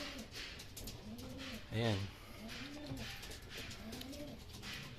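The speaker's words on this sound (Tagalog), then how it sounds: "Ayan, ngal-ngal yung mga ibon dahil nga ang init." Pigeons being readied for a racing toss training session in Matnog, Sorsogon coo in short rolling bursts under a voice, with one louder close call mid-way.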